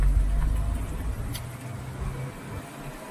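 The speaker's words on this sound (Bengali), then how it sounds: "তার মাঝে আমরা গাড়ি চালাচ্ছি।" A car drives along a mountain road on a road trip into the Spiti Valley, giving a steady low rumble and road noise from inside the car, with no talk.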